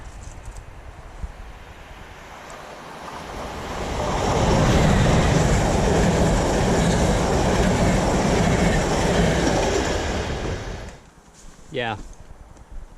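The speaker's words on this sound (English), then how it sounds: "Train incoming." A train rolls past close by with a loud, sustained rumble and rattle of wagons that builds, holds for several seconds, then fades, followed by brief vocal sounds.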